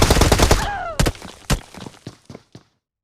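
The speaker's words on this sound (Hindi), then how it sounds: "अब यहाँ पर वो बंदा फ्री फायर दे रहा था" Gunfire in the mobile battle royale game BGMI: a dense burst of rapid automatic shots up front, then several separate loud single cracks spaced out, fading toward the end.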